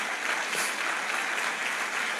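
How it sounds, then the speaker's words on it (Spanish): A church congregation applauds during a Spanish-language sermon, giving steady, dense clapping that carries through the whole stretch at an even level. "Un fuerte aplauso al Señor Jesús"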